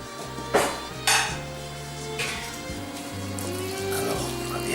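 Plates being set out for serving in a home kitchen while making côte de boeuf with porcini risotto: two sharp ceramic clinks close together, then a lighter clatter, over a low steady hum.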